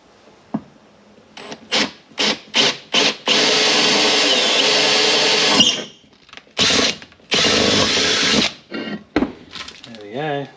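A hand-held power drill bores into metal during a Yamaha RD400 engine build, several short whirring bursts then longer steady runs, close and loud, with someone talking between passes.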